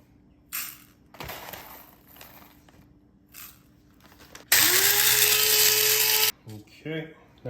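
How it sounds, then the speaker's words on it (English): An electric grinder whirs loudly through a batch of coriander seeds for about two seconds, close up, with the motor then spinning down, between brief stretches of talk and clatter. "I'm gonna grind up some coriander seeds"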